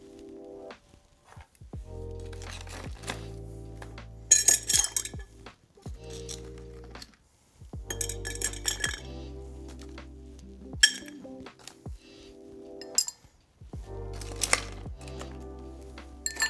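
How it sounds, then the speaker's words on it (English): Ice cubes clinking and rattling against mixing glasses while cocktails are stirred, bright glassy chinks in repeated bursts separated by brief pauses, close and fairly clear with no talk. "fill up these mixing glasses with ice, start stirring"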